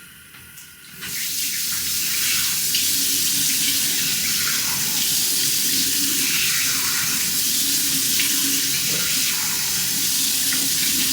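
Tap water running into a sink while a face is washed, starting after a brief quiet moment and then continuing as a loud, steady splashing rush.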